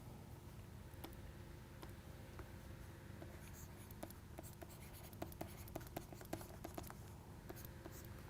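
Writing on a board, a steady scratchy stroking with a flurry of quick taps and ticks in the second half, faint and close under low room noise.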